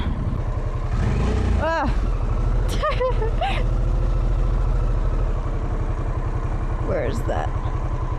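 A Harley-Davidson Sportster S idles steadily close by with a low, even throb while a rider speaks briefly over it and shifts around.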